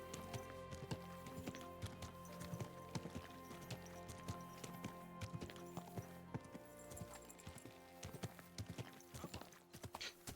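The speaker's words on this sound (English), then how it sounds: "Easy, good horse." Horse hooves clip-clop in the medieval video game Kingdom Come Deliverance 2, a steady run of hoof strikes over game music and ambience, with a whinny among them.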